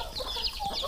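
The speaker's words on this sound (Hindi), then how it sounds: "मुर्गा लोग को सब दाना थोड़ा दे देते।" Village chickens cluck in short, busy bursts as grain is scattered for them, steady and close throughout with no talk over them.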